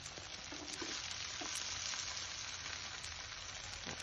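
Burger cheese crisping on a hot griddle with a bit of onion, giving a steady, dense sizzle that runs evenly throughout with a few faint clicks on top.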